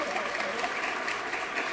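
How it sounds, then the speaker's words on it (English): Banquet audience at the 2025 Teacher of the Year Awards applauds the 10 finalists, a steady wash of many hands clapping from across the room, continuous and moderately loud with no pauses. "let's for a moment just give a big round of applause for all of our 10 finalists"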